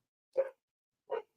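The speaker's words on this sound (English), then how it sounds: "my dogs are barking" Two separate dog barks, fairly faint and spaced apart, with silence between them and no voices.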